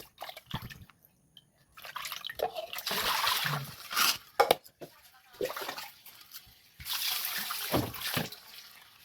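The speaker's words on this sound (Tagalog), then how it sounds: "hugasan ko muna guys bago ko tantarin. Yan guys, hugasan ko ng malinis lang." Running water splashing and trickling as food is rinsed clean, coming in uneven bursts with short pauses between, close by and moderately loud.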